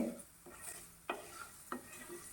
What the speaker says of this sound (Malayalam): ഇനി റവ ഒന്ന് നന്നായി വറുത്തെടുക്കണം.